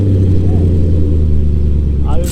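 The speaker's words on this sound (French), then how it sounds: "On va essayer cette RS4. Regarde le démarrage, ça va être plutôt sympa." Audi RS4 V8 engine running loud and close right after start-up, a steady deep rumbling idle with a slight rise near the end.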